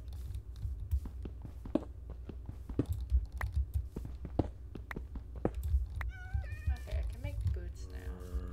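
Black cat in Minecraft giving a few short meows late on, over steady keyboard tapping and someone talking.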